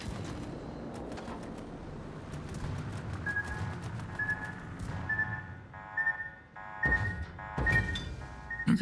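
Unarmed torpedoes strike a warship's hull in World of Warships, landing as dull, heavy thunks spread over several seconds, with a steady alarm-like beeping pulsing underneath and a few sharper impacts near the end.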